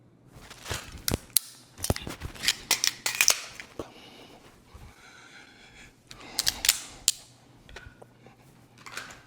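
Dry-fire pistol practice for competition shooting, with Romulus magazines dropping free: sharp mechanical clicks, snaps and clattering bursts come in quick clusters, with quieter gaps between them.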